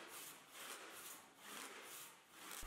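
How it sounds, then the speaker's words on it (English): A hand rip saw cutting down the middle of a zebra wood board clamped in a vise, rasping in a steady back-and-forth rhythm of about four strokes, close but soft. "I'll use a rip saw to cut them down the middle"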